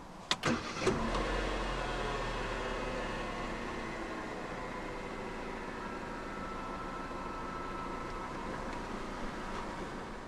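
A 2015 Vauxhall Corsa 1.4 turbo petrol engine cranks briefly with a few sharp clicks, then catches and settles into a steady idle rumble that continues to the end.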